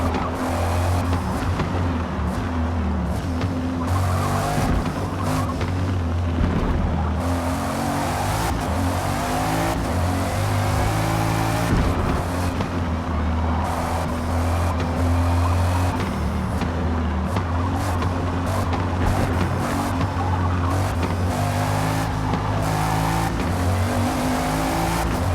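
A 2018 Bugatti Chiron races through a video game lap, its engine holding a steady, loud drone with occasional tire squeal and shifts in revs, with no one talking.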